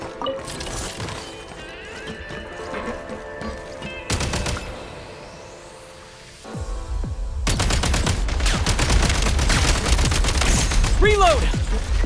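Gunfire in the video game Genshin Impact, rapid bursts of shots in a dense, loud game mix with music and effects, growing busier and louder in the second half.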